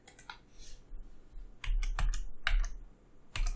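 Typing on a computer keyboard comes in quick bursts of clicky keystrokes with brief pauses between runs, close and fairly quiet.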